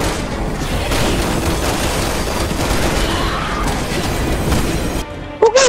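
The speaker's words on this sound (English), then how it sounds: "Shoot that TNT. Shot it with my sniper." Dense, continuous gunfire and explosive crashes fill a Resident Evil 6 fight scene involving a sniper rifle and TNT, with a brief lull near the end before a few sharp final hits.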